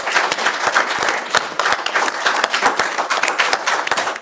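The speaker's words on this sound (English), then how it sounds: "Everybody give yourself an applause" Audience at a Victor Valley college district board of trustees meeting breaks into steady, dense applause, many hands clapping together at close range for the full stretch with no pause.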